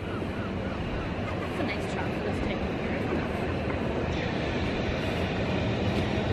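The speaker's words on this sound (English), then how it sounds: "It's the boat tram." Blackpool diesel boat tram running along the promenade, a steady loud rumble of engine and wheels with faint talk mixed in.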